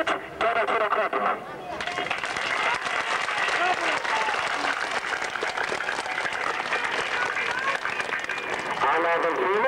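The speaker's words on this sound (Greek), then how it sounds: "Μπράβο τους και ένα χειροκρότημα." Crowd applause at a street protest in Greece, loud and sustained clapping after a brief pause at the start, with shouting and voices mixed in throughout.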